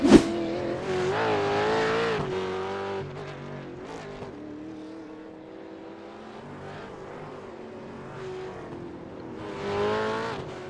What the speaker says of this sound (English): Nice little control spin. And he's back underway.